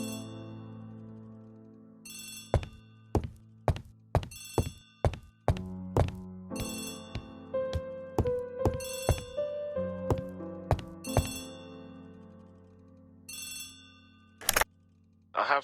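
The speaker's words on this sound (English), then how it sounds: "Poirot, the telephone." A telephone rings in the Agatha Christie game The ABC Murders, its clear electronic tones repeating in short bursts alongside soft thunks and footstep-like knocks, with a brief louder burst near the end.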